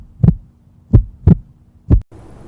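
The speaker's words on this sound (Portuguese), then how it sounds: "do som do próprio coração batendo" A heartbeat effect gives four deep, close, thumping beats in uneven pairs, standing out against a faint low hum before cutting off.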